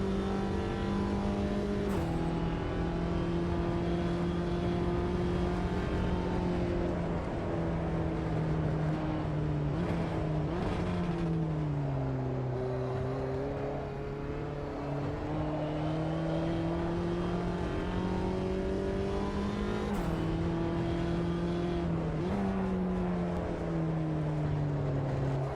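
A race car engine in the Automobilista 2 racing game drones steadily at high revs, pitch rising and falling through gear changes and braking, with sharp shifts around three points. It plays alone and close, without talk.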